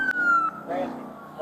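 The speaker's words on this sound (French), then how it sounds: "Les sirènes." A police siren wails briefly at a roadside traffic stop, a wavering electronic tone sliding up and down, fairly loud, with voices mixed in.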